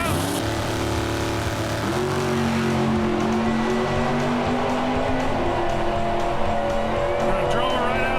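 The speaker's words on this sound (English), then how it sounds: "Come on, spin the tires." A 1968 Chevy Camaro SS launches at a drag strip, its V8 engine roaring loud and steady with a climbing tone as the rear tires spin, under continuous crowd and announcer noise.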